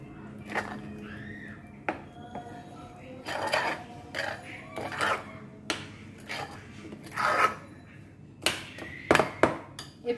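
A utensil scrapes and knocks against a pot while batter for oil pitha is mixed thick, making irregular rubbing strokes and light clinks at close range with faint background noise.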